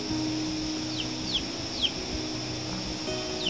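Chickens cluck and call softly in a farmyard, a few short descending chirps standing out over a steady low hum and faint background murmur.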